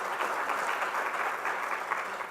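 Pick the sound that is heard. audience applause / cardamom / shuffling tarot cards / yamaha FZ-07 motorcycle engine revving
audience applause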